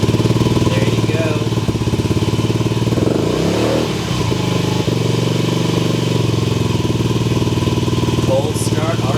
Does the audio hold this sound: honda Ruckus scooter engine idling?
yes